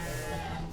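Goats and sheep bleat together at feeding time in a farm pen, a loud close bleating sound filling the short moment.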